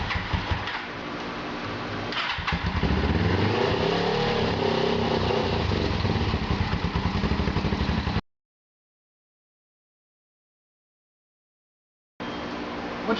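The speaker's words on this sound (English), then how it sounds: "After some extended cranking, you'll probably get the bike to start. It may run rough at first," Suzuki GS500 motorcycle engine after carburetor jet cleaning, cranking then catching and running rough with an uneven lumpy idle and some revving, close and loud, cutting out to silence before resuming briefly.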